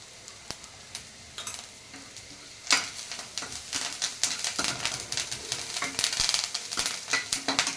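Turmeric tipped into a sizzling pan of curry leaves while cooking homemade Maggi-style vermicelli, a quiet hiss that swells into louder crackling and popping partway through, with spatula taps and no speech.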